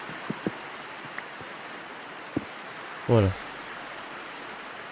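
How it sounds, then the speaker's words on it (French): Rain falling in a Minecraft world with the Astral Sorcery mod: a soft, steady hiss sits under a few faint clicks and one brief spoken word. "Ah mais vu qu'il pleut."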